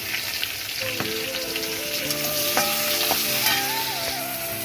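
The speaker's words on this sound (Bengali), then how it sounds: "আর দিয়ে দেবো কুচিয়ে রাখা পেঁয়াজগুলো" Chopped onions frying in oil tempered with cumin seeds, in a pan just used for frying prawns: a steady close sizzle with stirring clatter and scraping of the utensil throughout, no talking.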